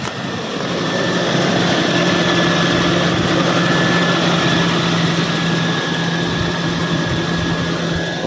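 A Toyota Kijang LGX EFI engine idles at close range, giving a loud, steady mechanical drone with an even low rumble and no speech over it.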